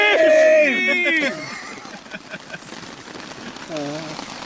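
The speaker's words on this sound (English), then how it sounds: "It's raining, we're under the tarp," Heavy rain patters steadily on a tarp over a wild campsite in Scotland, a constant soft hiss heard beneath voices talking close by.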